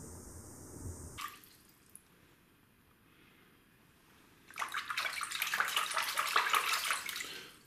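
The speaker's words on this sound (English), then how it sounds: "So it's now recording underwater while I'm splashing around." An Olympus Tough TG-5 waterproof camera held in water records muffled sloshing, then a burst of vigorous splashing builds loud and close near the end, with no voices.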